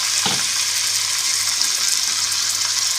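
Garlic fries in hot ghee for molokhia, a bright, steady close sizzle that hisses continuously, with a brief stir or clink near the start.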